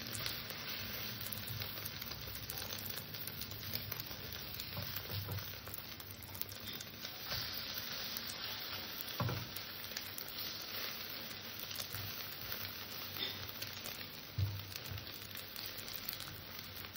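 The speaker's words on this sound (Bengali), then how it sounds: "এইভাবে সমস্ত এগুলো আমি চুপিয়ে চুপিয়ে ভেজে নেব।" Bread pieces shallow-frying in a pan for a bread omelette give a steady, even sizzle with soft crackle throughout, fairly close and uninterrupted, with no talking.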